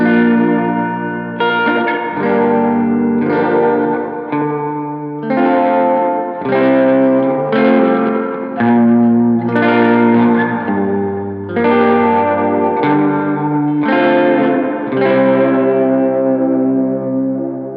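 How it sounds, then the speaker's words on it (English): Dreamy electric guitar chords drenched in reverb and echo, slow sustained strums washing into each other, warm and full with no voices. "it's meant to be that very dreamy, reverb-drenched, warm amp goodness"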